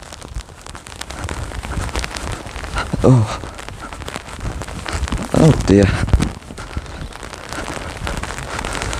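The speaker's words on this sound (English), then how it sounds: "I don't know if you can see the rain." Heavy rain pours down on a street during a walk, a dense constant patter close by, with a person briefly speaking over it.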